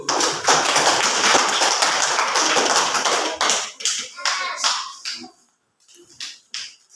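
Classroom clapping from a group of students and a teacher: a dense burst of hand claps for about three seconds, then sparser, scattered claps and taps fading out.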